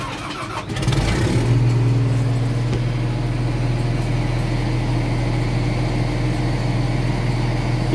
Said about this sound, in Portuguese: a máquina vai estar dando reversão na hélice